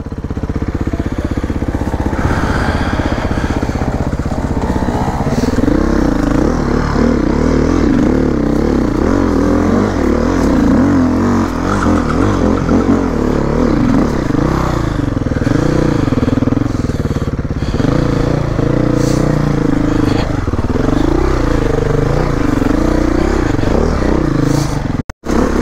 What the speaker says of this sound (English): this is my dad's bike though, the 480